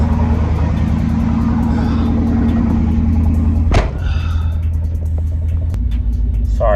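A car engine with its exhaust cut off idles loudly and close, a deep throbbing rumble with a brief sharp clunk partway through before the steady drone continues.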